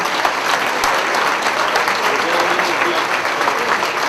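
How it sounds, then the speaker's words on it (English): An audience at a high school academic awards ceremony for 10th and 11th graders claps in sustained, dense applause that holds steady from start to finish. "Please give them a round of applause."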